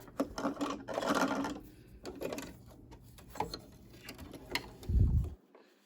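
An embroidery machine works with bright yellow thread on a dress boutique scene hanger design, giving off irregular mechanical whirs, clicks and ratcheting bursts, close and moderately loud, ending with a low thump before quiet.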